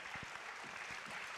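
Quiet audience applause at a public talk on Parkinson's disease treatments, a soft, steady patter of clapping heard from a distance, with a few low thumps near the start.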